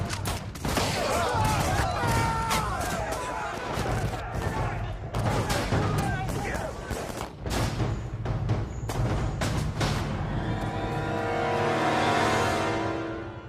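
Dense volley of rifle gunfire in a dramatized battle of the Homestead steel strike, loud overlapping shots and booms crackling continuously under shouting voices and crowd noise.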